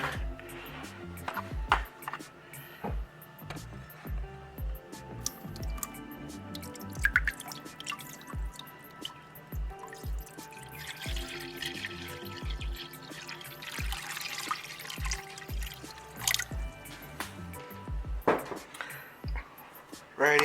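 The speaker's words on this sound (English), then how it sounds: "Let me go ahead and add some water in here for him really quick." Water trickles and drips into a green tree python's enclosure, with scattered splashy drops and pours repeating irregularly at close range under a quiet background hum.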